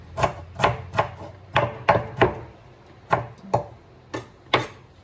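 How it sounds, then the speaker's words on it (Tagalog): Ginger being chopped into small pieces with a knife on a board, about a dozen crisp, close knocks in an uneven rhythm against a quiet background. "Kaya, nihiwa ko siya maliliit para makain."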